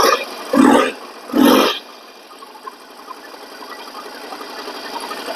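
A Harley-Davidson Sportster 48 motorcycle starting up: two loud bursts give way to a steady, lower engine idle that runs close by to the end.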